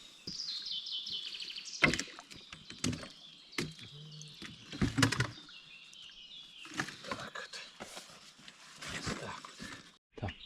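A fisherman handling tackle and rowing a boat on the wild Stokhid river makes scattered wooden knocks, clatters and splashy strokes at close range, with birds chirping faintly in the background.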